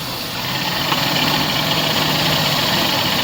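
A Mazda E2000 van engine, newly converted to a carburetor, idles steadily with a continuous low rumble and even vibration, close and loud throughout with no talk.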